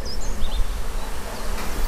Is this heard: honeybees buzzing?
yes